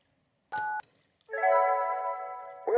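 Telephone keypad tones in the game Kentucky Route Zero: one short dual-tone beep, a pause, then a longer sustained tone and the start of another, clean and close against silence.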